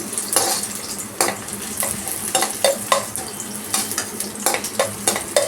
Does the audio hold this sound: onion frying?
yes